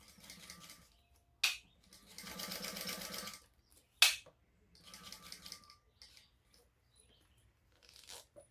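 A sewing machine stitches a backpack in several bursts of rapid whirring, with short pauses between runs and sharp clicks or clunks as the fabric is adjusted.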